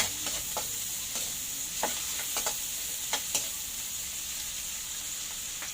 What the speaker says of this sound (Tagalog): So pakatasin lang natin ng konti yung kamatis.